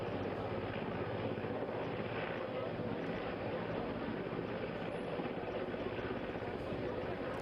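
A rescue helicopter hovers over a flooded, fast-flowing river, its rotor and engine producing a loud, constant broadband roar that fills the whole clip without a break.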